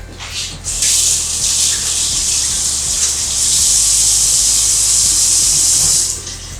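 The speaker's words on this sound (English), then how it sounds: "Wash my hands off real quick." Tap water runs steadily over hands at a sink in a home kitchen, a loud close gushing hiss that starts abruptly, flows for about five seconds with slight splashing changes, then cuts off.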